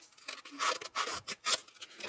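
Hand-dyed fabric torn apart by hand in a mixed-media craft project, several rough ripping strokes in quick succession, close and fairly loud, with no voices.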